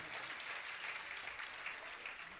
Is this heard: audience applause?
yes